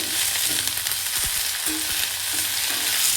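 Capsicum and curry leaves fry with onion in a pan for bisi bele bath, a loud, steady sizzle with a few light stirring knocks, continuous and close, with no talking.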